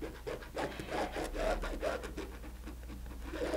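A friction pen is drawn along a ruler across quilting fabric, making a soft, close, rhythmic scratching rub in short repeated strokes.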